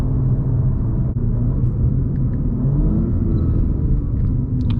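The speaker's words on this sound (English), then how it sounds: "Doesn't burble as much as mine." A 2024 BMW M4 Competition xDrive rumbles with a deep, steady exhaust drone, loud and close throughout, with faint crackles near the end and no talk.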